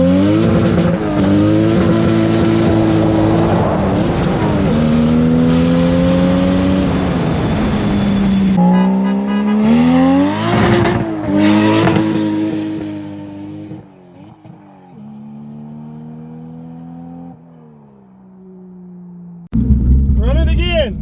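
A turbocharged 2JZ Toyota Supra accelerates hard on a test run, its loud engine note climbing through the revs, then dropping and easing off after a missed shift into third gear, before a sharp burst of noise at the end.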